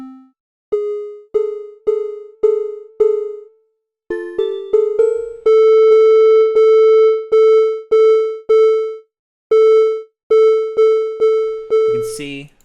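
A series of plucked, resonant synthesized tones, struck repeatedly in a rhythmic pattern with ringing harmonics, some notes sustaining longer before a final glitchy burst.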